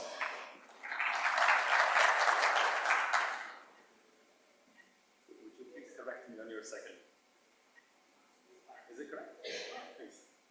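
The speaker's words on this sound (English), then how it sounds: "Please welcome her with a round of applause" Audience applause at a technology conference welcoming a keynote speaker, a dense burst of clapping for about three seconds, followed by quieter murmuring and shuffling in the hall.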